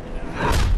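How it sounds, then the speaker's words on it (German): Body check in a Game of Thrones video game, a single heavy thud that swells into a brief whooshing impact at the end. "Boah, das war ein Bodycheck."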